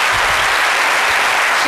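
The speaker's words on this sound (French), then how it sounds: "Je pense qu'on doit applaudir pour quelqu'un" An audience at a televised interview bursts into loud, dense applause, a continuous roar of clapping hands from start to finish.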